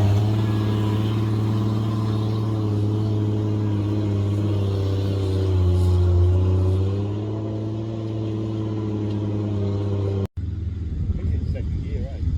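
A Nissan G60 Patrol off-road vehicle in the Victoria High Country runs in second gear, its steady engine hum rising and easing near and loud over several seconds, with voices talking over it before it cuts off abruptly.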